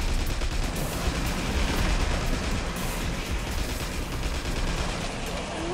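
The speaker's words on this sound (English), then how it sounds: "Now that's what a Tommy gun sounds like." A Tommy gun in Tesla vs Lovecraft fires in a continuous rapid stream, dense rattling bursts blending with booming impacts at constant loud level, a gamer's voice faintly mixed under the din.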